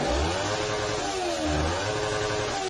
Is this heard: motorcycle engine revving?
yes